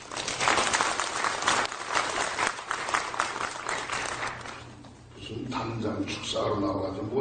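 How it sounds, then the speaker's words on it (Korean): A congregation at a Korean church gathering for an installation of revival leaders claps loudly for several seconds, the applause dipping briefly before more clapping mixes with voices. "박수 한번 하시겠습니다"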